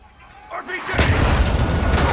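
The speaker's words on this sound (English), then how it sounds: "RPG!" An RPG rocket exploding in the Modern Warfare 2 campaign: a rising whoosh followed by a loud, sustained booming blast that fills the rest of the moment, with voices mixed in.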